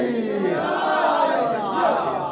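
A large crowd at a religious gathering chants the Naara-e-Haidari slogan, a sustained, loud massed roar of voices that swells and holds without a break.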